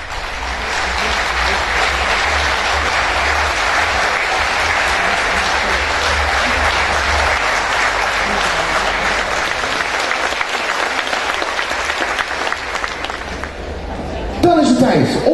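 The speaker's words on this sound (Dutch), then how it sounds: "zodat we een officiële Oostkoningin hebben onder een groots applaus." Sustained, dense audience applause at a Sallandse farmers' harvest festival crowning the harvest queen, loud and steady for about fourteen seconds before easing off, with a few voices rising near the end.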